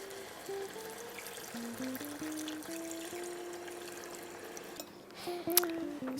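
Water trickling and pouring steadily into a pot of chicken curry, a continuous liquid splash under a faint hum, with a brief louder slosh near the end.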